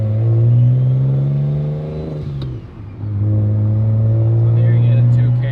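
Single-turbo BMW 335i fitted with a T51R turbo and anti-lag, loud close engine rumble with a dip and rising revs. A voice talks over it.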